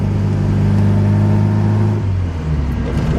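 An Alfa Romeo car engine drones steadily while driving at about 40 mph and 2,500 RPM, a close, even hum with a slight dip partway through.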